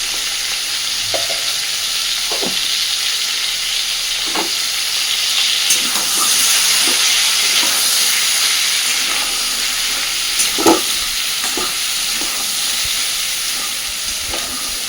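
Ridge gourd and potato fry in a pan for a vegetarian poppy-seed dish. A steady hissing sizzle runs throughout, with occasional soft knocks of a spatula stirring, close and fairly loud.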